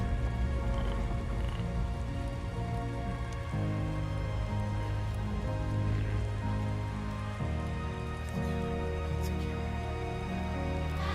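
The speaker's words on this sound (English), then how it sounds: "Here comes the rain again." Steady rain falls in the video game Death Stranding 2, a dense, continuous hiss of drops hitting surfaces with layered tonal game sound beneath it, loud and unbroken throughout with no talking.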